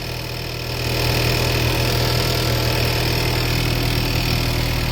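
A VW 1.4 turbo CZTA engine swapped into a Rabbit idles steadily and close by, its low, even drone rising slightly after the first second, then holding constant with no talk.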